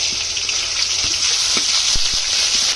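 Onion paste frying in hot oil in a wok for a fish curry, a steady loud sizzle throughout with a few sharp crackles and pops.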